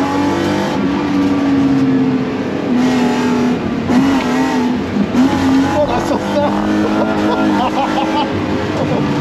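A drift car's engine revs hard to heat the tires, loud and close, with the revs swelling and dropping in waves over several seconds while voices talk over it.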